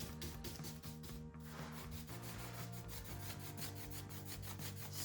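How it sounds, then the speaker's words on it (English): Brush scrubbing glaze off embossed Lincrusta wallcovering, a continuous rhythmic rubbing and scraping with repeated quick strokes, faint and close, with no voices. "we're just scrubbing it out."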